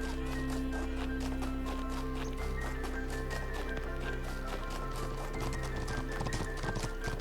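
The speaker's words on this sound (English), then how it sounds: "That really sounds like a horse. I don't know if that's how deers run." In The Talos Principle 2, deer hooves gallop like a running horse, a fast, even clip-clop under a dense, steady game soundscape of hums and music.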